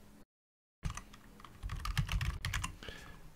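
Quick clicking keystrokes on a computer keyboard while a command is typed, a close, fairly quiet burst of taps that starts after a brief silence and runs about two and a half seconds.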